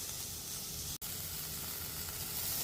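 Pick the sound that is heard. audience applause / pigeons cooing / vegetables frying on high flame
vegetables frying on high flame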